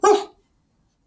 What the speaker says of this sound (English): a volley of barks interrupted the peace